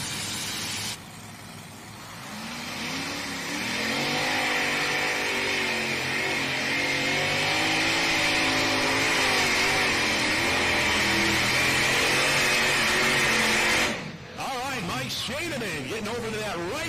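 A pulling tractor's engines roar as it drags a weight transfer sled at a summer tractor pull, a loud sustained revving drone that builds and holds for several seconds before cutting off sharply, with an announcer talking over it.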